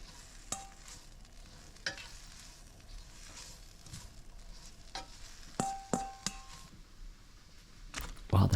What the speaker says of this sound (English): we're going to throw this in a hot pan and just cook it till our arugula is wilted up a little bit